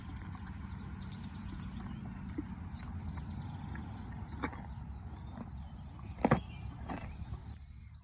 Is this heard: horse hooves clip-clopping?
yes